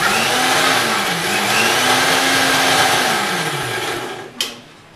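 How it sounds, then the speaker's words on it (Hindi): A mixer grinder whirs loudly as it blends Parle-G biscuits with milk. The motor pitch wavers steadily for about four seconds, then the machine cuts off with a brief click and the noise fades. "चलिए इन सभी चीज़ों को एक साथ पीस लेते हैं।"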